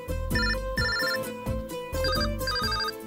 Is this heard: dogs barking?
no